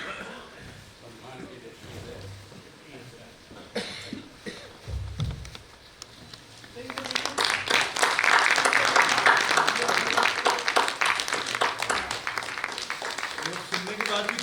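Audience applause at a national convention session rises after a quieter stretch with some talk and thuds, swelling into a sustained, fairly loud round of clapping from a crowd that carries through to the end.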